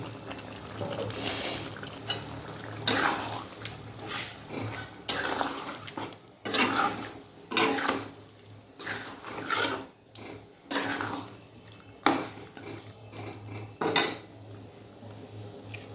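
Curry being stirred in a pan after sugar goes in: a spoon scrapes and clinks against the metal in irregular bursts, with a faint sizzle and simmer underneath and no talk.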